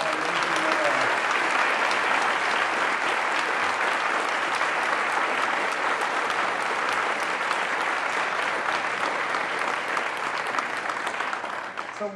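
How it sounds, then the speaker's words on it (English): A school audience gives a long, loud round of applause for the faculty of a country day school, dense sustained clapping from a large crowd that holds steady for about twelve seconds before easing slightly. "let's give them a round of applause for how amazing they are"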